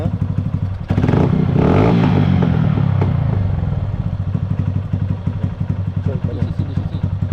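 A 2022 Honda Factor motorcycle engine runs near and loud with a steady, slightly uneven idle during idle-screw adjustment, with clatter and a brief surge, while someone talks over it.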